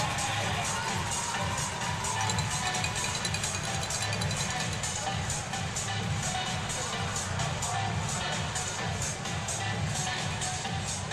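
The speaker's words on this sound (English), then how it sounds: "the McMorran crowd has exploded for the first time tonight" Hockey arena crowd at the McMorran roaring and cheering after a goal against Indiana, a dense, sustained wall of crowd noise with no letup, loud and close throughout.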